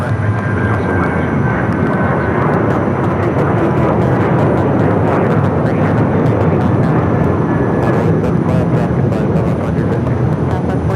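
An American Airlines jet taking off from runway 7 left at Phoenix Sky Harbor, a loud continuous engine roar filling the whole stretch with broadband rumble and no pauses.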